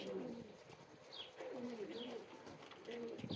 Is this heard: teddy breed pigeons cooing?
yes